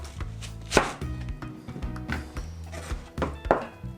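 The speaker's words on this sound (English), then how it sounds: "Let's cut onion." An onion is chopped with a knife on a cutting board for Korean cucumber kimchi, making close, irregular thunks and sharp knocks over faint background hum.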